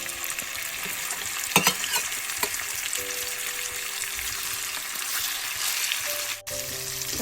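Prawns frying in hot oil, a steady close sizzle running throughout with a few brief clinks and stirring scrapes early on, no voices.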